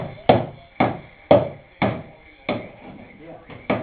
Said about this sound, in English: My hammer works.